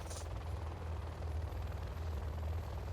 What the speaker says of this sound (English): Drones! Hellfire drones.